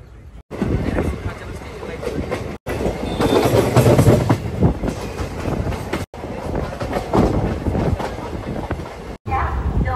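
Intercity SuperFast Express 22819 running on the Bhubaneswar–Visakhapatnam line, heard from inside a coach: a steady loud rumble with rhythmic clickety-clack and some wheel squeal, a few brief dropouts, and voices talking over it.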